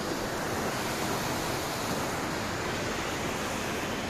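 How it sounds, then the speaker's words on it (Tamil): Loud, steady roar of rushing water released from Suthamalli Dam, a dense continuous torrent close by with no pauses and no voices. "செம்ம ஸ்பீடாக போகுதுங்க தண்ணி."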